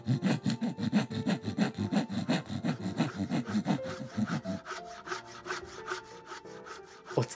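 A voice imitates a handsaw cutting a DIY wood offcut in two, with rapid, rhythmic rasping strokes, steady back-and-forth sawing that slows near the end, close and fairly loud.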